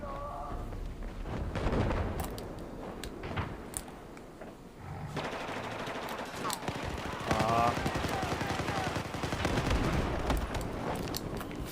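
Gunfire and heavy tank cannon shells in the video game Battlefield 4 on the Siege of Shanghai map, with dense, loud bursts and booms that keep going almost without pause, and people talking over the battle.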